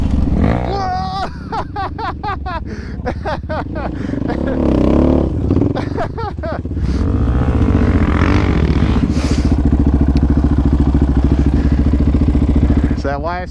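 A Yamaha Raptor 700 ATV engine revs and drones while being ridden on a dirt trail, loud and close, rising and falling, with people talking and calling out over it.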